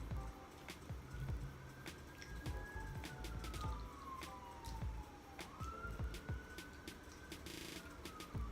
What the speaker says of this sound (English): I'm sure y'all can probably hear sirens outside.